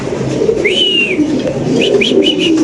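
Pigeons coo and call at a pigeon farm, a few clear rising notes standing out above a constant low rumble of many birds murmuring nearby.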